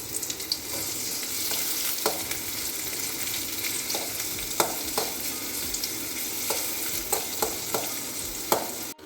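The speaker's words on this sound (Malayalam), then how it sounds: "ഇനി നമുക്ക് ചെറിയ ഉള്ളി നെയ്യിൽ താളിച്ച് ചേർക്കാം." Small shallots sizzle in hot ghee for a kanji tempering, a loud, steady frying hiss up close with frequent sharp crackles and pops and the scrape of stirring, without any voices.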